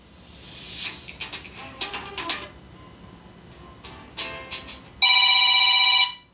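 A smartphone alarm ringtone plays a short melodic run of chimes, then a loud, steady electronic alarm tone rings for about a second.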